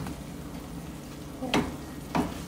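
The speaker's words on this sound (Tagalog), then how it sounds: "Pero kailangan haluin talaga natin siya." Chili garlic sizzling in a pan, a steady soft frying hiss broken by two brief scraping stirs near the end, close and fairly quiet.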